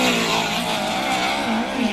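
A USAC midget race car runs a qualifying lap at Ventura Raceway, its engine holding a loud, steady high-pitched drone for the whole stretch with slight pitch wavers, and no voices over it.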